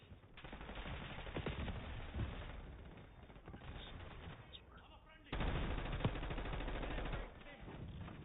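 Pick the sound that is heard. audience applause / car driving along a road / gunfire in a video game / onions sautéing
gunfire in a video game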